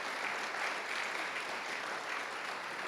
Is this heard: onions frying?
no